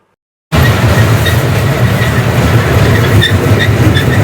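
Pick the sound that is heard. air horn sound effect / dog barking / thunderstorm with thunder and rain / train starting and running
train starting and running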